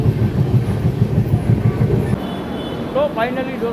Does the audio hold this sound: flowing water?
no